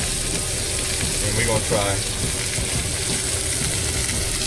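Pineapple and onion sizzling on a grill, a steady close frying hiss that runs throughout with a brief scrape midway, as someone speaks a few words over it.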